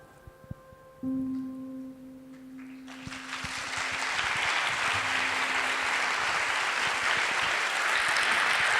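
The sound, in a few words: audience applause at forum closing plenary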